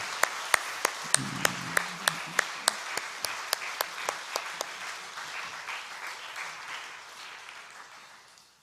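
A church congregation applauds its ministers, with sharp, evenly spaced claps from a nearby individual standing out over broader crowd clapping that gradually fades away.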